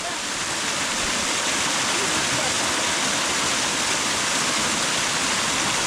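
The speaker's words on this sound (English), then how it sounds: "Hey, waterfall ni kali." A waterfall near a village pours in a loud, steady roar of rushing water, close and unbroken, with voices faintly mixed underneath.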